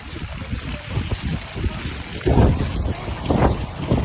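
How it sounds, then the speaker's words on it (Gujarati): Strong wind gusts through a Gujarati village during heavy rain, buffeting the microphone in rising rushes over a constant wet hiss, with faint voices in the background. "बहुत पवन आ रहा है."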